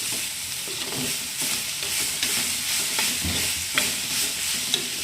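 A spoon works through a frying spice mixture with curry leaves in coconut oil, giving steady scraping strokes against the pan over a constant loud sizzle, with no speech.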